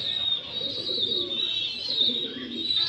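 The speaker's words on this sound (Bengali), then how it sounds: "আমার কবুতর মাশাল্লাহ খুবই সুন্দর" Red Lahori pigeons cooing softly over a constant high-pitched background hum, with low murmuring coos running throughout, fairly close.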